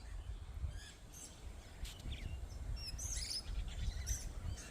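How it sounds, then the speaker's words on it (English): Birds chirp and tweet in a backyard garden, several short high calls scattered over a low steady outdoor rumble, moderately distant and faint. "So guys, those are the birds you are hearing."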